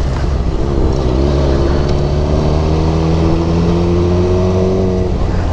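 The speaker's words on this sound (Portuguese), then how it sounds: "É a moto que vai sozinha!" A motorcycle being ridden gives a loud, close engine drone with rising, revving tones that climb gradually and hold steady, with no speech over it.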